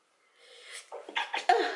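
A single sneeze, close and fairly quiet, building from a soft breathy intake into sharp bursts with no talking around it.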